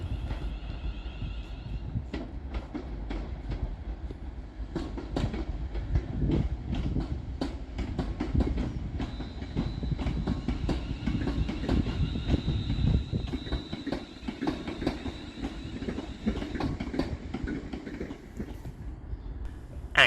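A class 350 London Northwestern Railway train pulling out of Crewe station on the far side, a steady low rumble with repeated wheel clacks over the rail joints and a faint whine, moderately distant, with no talking.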